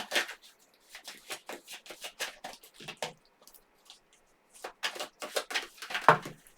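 Tarot cards being shuffled by hand, close up, in quick riffling bursts that pause and restart, with a louder slap near the end.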